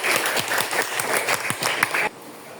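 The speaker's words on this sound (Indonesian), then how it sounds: "beri tepuk tangan kelompok 1" A classroom of students applauds group 1 with dense clapping for about two seconds, then it stops abruptly.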